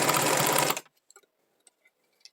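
Sewing machine backstitching fabric: a short loud burst of rapid, dense stitching that stops abruptly, followed by near silence with a few faint handling clicks.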